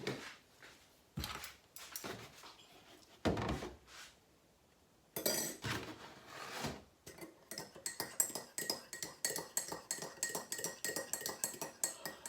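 A spoon clinks and scrapes against a cup of tea in a series of sharp, close metallic taps. The taps grow faster and more regular toward the end, with a few louder knocks earlier and no voices.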